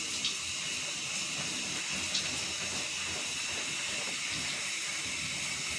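Shower water running steadily throughout, a continuous hissing spray close by with a few faint knocks and no voices.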